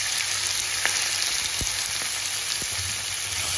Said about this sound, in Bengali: তারপরে আলুগুলোকে এটা ঢেলে দেব